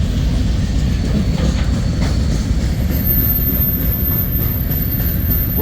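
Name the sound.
freight train passing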